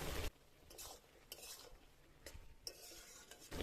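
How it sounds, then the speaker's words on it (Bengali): Ridge gourd frying in a pan over high heat, heard as a quiet background sizzle broken by several bursts of spatula scraping and stirring against the pan, with no talking. "উনুনের জালটা এই সময় একটু জোরে দিয়ে 1-2 মিনিট ভেজে নেব"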